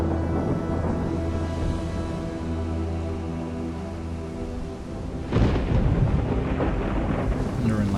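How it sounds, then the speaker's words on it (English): Thunder in the video game Anno 117 rolls as a deep sustained rumble under a tonal music bed, then a louder crack-like burst breaks in and carries on to the end. "Thunder and lightning."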